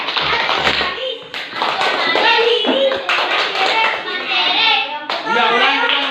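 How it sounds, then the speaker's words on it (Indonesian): A classroom of students performs a rhythmic character clap during a teaching practice lesson, sharp hand claps in quick patterned bursts, loud and close, with children's voices mixed in. "Tepuk karakter dulu, coba."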